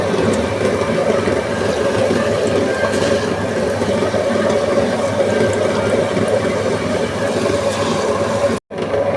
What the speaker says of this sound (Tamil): இப்போ அரிசி அரையட்டும்.